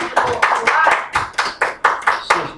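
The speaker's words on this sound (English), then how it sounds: "let's give her a hand clap and give God a hand clap for praise" A church congregation at a camp meeting claps in praise, giving about nine sharp, fairly even claps in a steady rhythm, loud and close.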